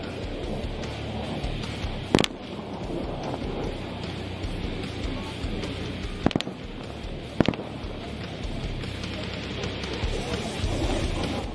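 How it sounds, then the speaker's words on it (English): An A-10's 30mm GAU-8 Avenger Gatling gun firing at an air show, heard as distant ripping bursts over steady crowd and wind rumble, with sharp bursts three times. "the A-10s, work their way inbound with the strength of the 30mm GAU-8 Avenger Gatling gun"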